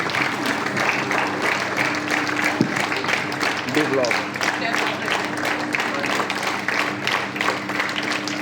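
Steady applause from an assembled audience at a school prize distribution for a Nepali storytelling competition, continuous and fairly even, with voices and a faint tonal hum underneath.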